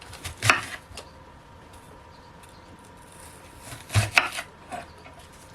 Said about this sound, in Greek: Θα κόψω ένα κρεμμύδι.